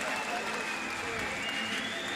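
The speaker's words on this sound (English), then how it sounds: "Listen to the applause for Demu Kajaya." Crowd applause in an arena for a boxing gold medalist at the Junior European Boxing Championships finals in Tbilisi, a steady, fairly distant wash of clapping with a faint whistle-like tone over it.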